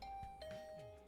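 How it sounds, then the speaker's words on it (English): A doorbell in the video game The Hundred Line: Last Defense chimes quietly as a two-note ding-dong, each tone ringing on smoothly and sustained. "I woke up from the sound of my doorbell instead of the usual ridiculous announcement."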